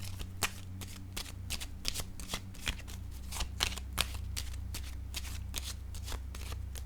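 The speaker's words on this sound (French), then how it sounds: "Attendez, je vais déposer une autre carte sur la courte maladie." Tarot cards are handled, flicked and laid down on a table in quick, crisp papery snaps, a dense irregular run of close, fairly quiet slaps and rustles with no speech.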